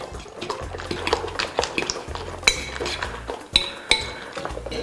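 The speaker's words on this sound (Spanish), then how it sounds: "Con la ayuda de un tenedor vamos a mezclar." A fork clinks and taps against a bowl while beating eggs seasoned with salt and pepper, giving quick irregular scrapes and sharp metallic ticks close up, with faint background noise.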